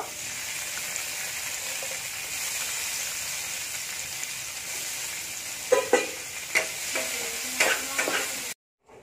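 Soaked, swollen cashews and raisins fry in ghee in a kadai, giving a steady close sizzle. A few sharp clinks and stirs cut in near the end before a sudden stop.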